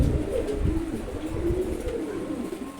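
Two female racer pigeons coo continuously in low, throaty rolling pulses, close and moderately loud, over a faint ambient murmur with no speech.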